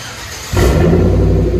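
Chevy Trailblazer V8 with muffler and resonator cut off, bursting from quiet into a loud, raw, rumbling rev about halfway through, close and alone.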